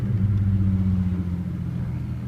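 A manual transmission car's engine gives a steady low drone while driving, heard from inside the car. The hum holds fairly even and eases slightly toward the end, with no talking.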